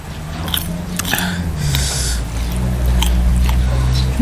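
Someone crunches and chews pickled guava close to the mic, a steady run of wet bites and mastication with a low hum beneath and no talking.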